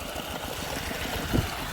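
Single-cylinder Kubota 9.5 hp water pump engine driven by a tractor, a steady low mechanical hum running without a break, with a brief louder knock near the end.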